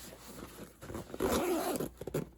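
A stiff zipper on a Tomtoc compact 4L sling bag is pulled open in one close, rasping run that speeds up midway and ends in a few short tugs.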